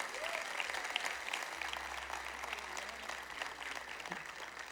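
Audience applause at a stand-up comedy fan meet, a steady sustained wash of clapping from a crowd that fills the whole stretch at even strength.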